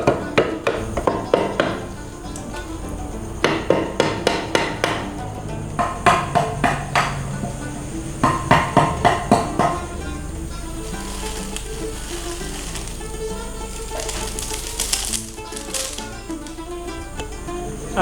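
Carving with a hammer and chisel, bursts of rapid rhythmic metallic taps in clusters, loud and close, followed by quieter scraping and background noise.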